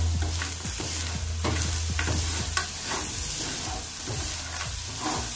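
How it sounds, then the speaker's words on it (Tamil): Coconut and jaggery filling for kozhukattai being stirred in a pan: a steady close sizzle with repeated scraping strokes of the spoon, no voice heard. "மிக்ஸ் பண்ணி நல்லா கலருங்க"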